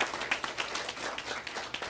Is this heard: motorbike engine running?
no